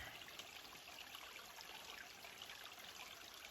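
A small stream beside a hiking trail on the Appalachian Trail, steady broadband rushing and trickling of water, close and continuous with no voices.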